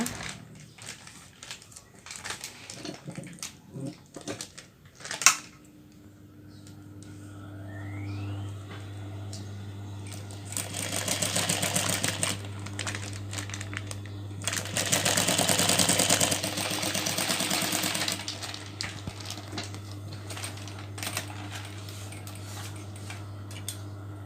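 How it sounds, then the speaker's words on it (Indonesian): Sewing machine stitching a bag made from recycled plastic waste, opening with scattered handling clicks and knocks, then a steady motor hum with two bursts of rapid buzzing stitching, close and without talk. "Ini kita jahit dulu ya."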